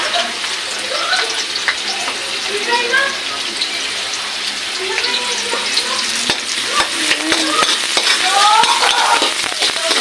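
Meat sizzles in a pan with garlic and onion while being stirred, a steady crackling fry with scraping stir noises up close, and a voice speaks intermittently over it.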